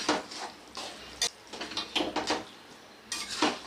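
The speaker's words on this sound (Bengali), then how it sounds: "এবারে দইটাকে খুব ভালো করে মাংসের সাথে মিশিয়ে দেব" Mutton with yogurt is stirred in a pot: scattered scrapes and metallic clinks of a spoon against the pot come in short, irregular bursts, close and fairly quiet.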